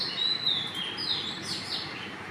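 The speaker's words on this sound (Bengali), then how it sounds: "কার কার ভাল লাগে পাখির ডাক শুনতে?" A bird calls at a window before dawn, thin high chirps repeating every half second or so, faint over a soft steady background hiss, no speech.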